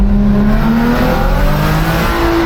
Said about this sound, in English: You ready for this downshift right here?